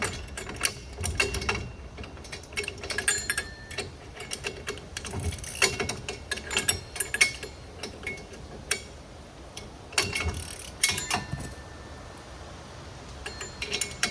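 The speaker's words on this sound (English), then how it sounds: "I do have a ratcheting wrench." Ratcheting wrench clicking on a hunting hoist, heard as bursts of quick metallic ratchet clicks and clanks with short pauses, fairly quiet, no talking.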